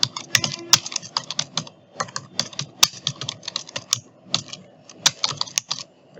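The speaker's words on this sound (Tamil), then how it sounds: "இப்போ டைப் பண்ணிட்டோம்" Rapid typing on a computer keyboard while designing a temple festival poster, with bursts of crisp key clicks broken by short pauses and occasional louder spacebar or enter strokes, close and clear with no talking.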